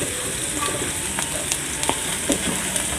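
Turmeric and spices are stirred in an oiled frying pan for a cabbage and egg fry, giving a steady close sizzle with occasional soft scraping strokes throughout.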